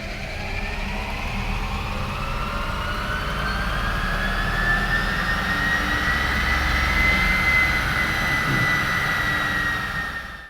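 Tesla-swapped Mustang on a dyno in a lowered performance mode, a loud electric motor whine rising smoothly in pitch over ten seconds with a heavy low rumble of rollers underneath, then cutting off, no voices.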